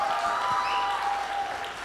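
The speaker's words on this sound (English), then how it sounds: "Come on, you can start clapping. You start clapping." Sustained applause from a live audience at a rap performance, steady and dense clapping with a tonal hum running underneath throughout.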